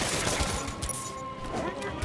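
Gunfire from a video game crackles as a rapid fusillade of shots, layered with game music and effects and a steady mid-level din throughout.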